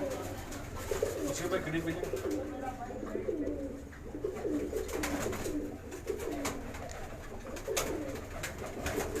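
Pigeons coo repeatedly in a loft, soft rolling burbles overlapping one another at a moderate distance, while someone talks over them throughout.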